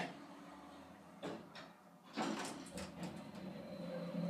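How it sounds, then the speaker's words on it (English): Doors of an Otis Series 1 hydraulic elevator in a Temecula, California plaza slide shut with a couple of soft knocks and then a longer rolling rumble, close and moderately loud, with no talking. "Door close button works, we like that."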